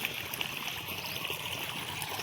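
Irrigation water runs steadily from a pipe into a farm field bed, a continuous close trickling, gurgling flow with no pauses and no talk.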